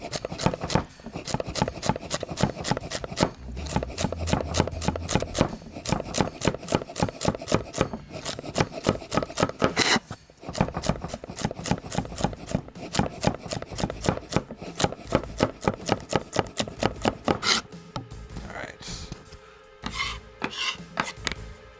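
A knife chops celery on a cutting board in quick, evenly spaced strikes, with brief pauses between runs before the rhythmic chopping resumes, close and clear.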